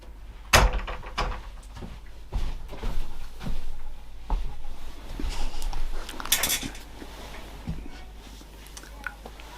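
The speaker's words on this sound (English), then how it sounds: "Do you want me to open the door for you?" A door is opened at home amid clattering and clinking like cutlery or dishes, with a sharp knock near the start and another bang later, against steady household noise.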